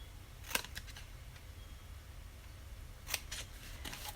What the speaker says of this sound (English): Now, with these bits here, I will just trim these.